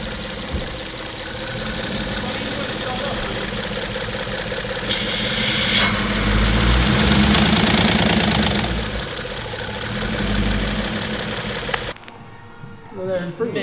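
Engine of a heavily modified 1150 hp Audi RS6 with a rattle, a steady mechanical knocking clatter over the running engine, swelling louder midway before cutting off near the end, with people talking over it.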